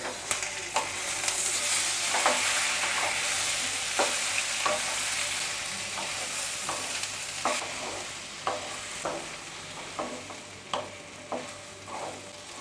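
Ginger, garlic, green chili and tomato sauté in a pan for chana masala, with a steady sizzle under repeated stirring scrapes and taps. No voices are heard.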